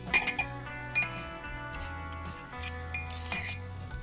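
A spoon clinks and scrapes against a glass bowl while stirring mustard salad dressing, with small sharp taps scattered over a soft, continuous low hum.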